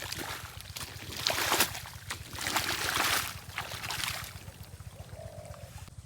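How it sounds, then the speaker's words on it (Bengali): A pump-set engine drives water into a chili field, its low steady chugging running throughout beneath splashing, gurgling water flowing nearby. "ওইদিকে মেশিন চলতেছে, এদিকে আমরা জল দিচ্ছি"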